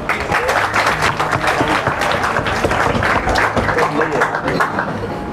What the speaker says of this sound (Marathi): वेदांसाठी एक टाळ्या वाजवा.